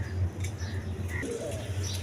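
A pair of pigeons, a khaki hen and a black-tailed kaldam cock offered for sale, coo softly and steadily close by against a low background hum.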